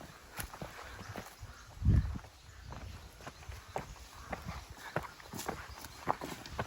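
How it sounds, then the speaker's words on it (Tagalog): A horse's hooves clip-clop on a rural farm, irregular muffled footfalls at moderate distance amid faint outdoor background noise. "Ang kabayo kay nakabuhi."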